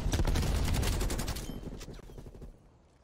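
Automatic gunfire from a gun in the Black Ops Cold War beta, a fast continuous burst of close, loud shots that thins out and stops near the end, leaving a brief quieter tail.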